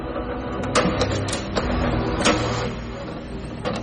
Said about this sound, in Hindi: प्रिंटर के चलने की आवाज तो हुई